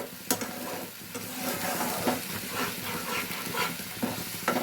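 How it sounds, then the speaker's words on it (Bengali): Egg curry masala being stir-fried in a pan makes a continuous sizzle. Bursts of scraping and stirring come and go throughout. "এবার এটাকে ভালো করে কষতে হবে"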